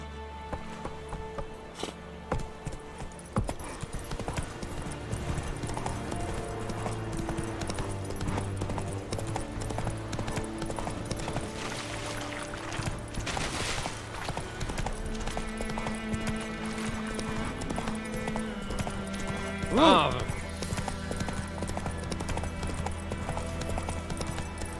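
Roach, the horse from The Witcher 3: Wild Hunt, gallops with a continuous close clip-clop of hooves over game music and ambience, and a brief whinny near the end.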